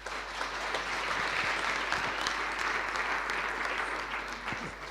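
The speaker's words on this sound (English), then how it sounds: "Let's give her a round of applause" A room of attendees at a township business workshop in Galeshewe bursts into sustained applause, dense even clapping holding steady for several seconds before easing slightly, with a low hum underneath.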